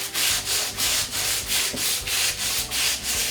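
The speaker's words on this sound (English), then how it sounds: "we're just going to dip the aluminum into the soda. And rub." Aluminium foil dipped in soda is rubbed over rusty chrome metal in quick, regular back-and-forth strokes, a close, gritty scrubbing that repeats about three times a second.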